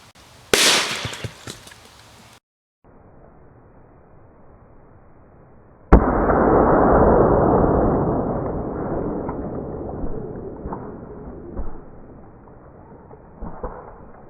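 A .22 Long Rifle hollow point fired one-handed from low to the ground at oranges, a sharp loud crack followed later by another sudden bang with a lingering rumble.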